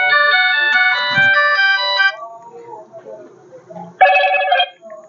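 Ringtone from a Motorola A10 phone set to vibrate and ring, a bright melodic electronic tune playing loud for about two seconds, pausing, then sounding again briefly, with quieter low sounds between.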